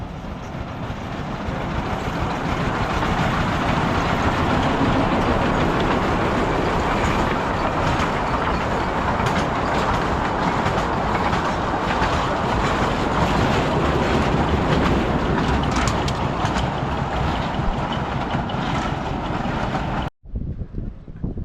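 A small train on Elephanta Island near Mumbai rumbles steadily along the track for a long stretch, a constant loud roar with rattling wheels, then cuts off abruptly.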